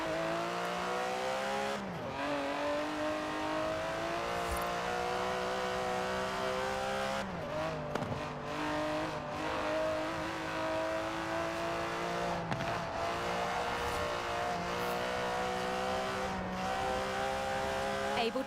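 An Aston Martin DB11 with a 5.2-litre twin-turbo V12 races in Forza Horizon 4, a steady loud engine drone that repeatedly climbs in pitch and drops back with each gear shift, with speech faintly underneath.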